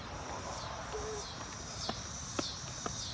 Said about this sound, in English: You hear these little bugs? I don't know what they call. Sound like cicadas